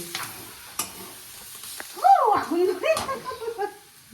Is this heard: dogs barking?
no